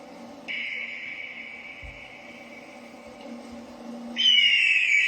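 An eagle call sounds as a sustained, piercing high cry that drops away, then returns with sharp descending screeches, loud and alone over a faint background.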